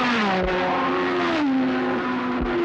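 Racing cars from the 1969 Tasman Series roar past the finishing line one after another, loud engine notes rising and falling as each car sweeps by close.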